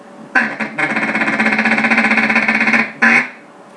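A duck call blown in a fast rhythmic chuckle, a rapid string of clipped nasal pulses, close and loud, bracketed by a couple of short single blasts.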